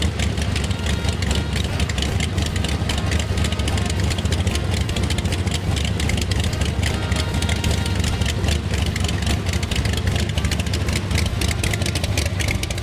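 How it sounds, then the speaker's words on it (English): An antique engine built in 1899 for irrigation runs steadily at idle, a continuous low mechanical chug that stays loud and even throughout with no talk over it. "This engine right here was built in 1899."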